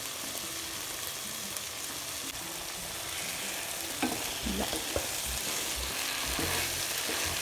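Desi ghee hits a hot pan and sizzles in a dense, continuous hiss, with a few soft scrapes and bumps of stirring partway through, close and steady.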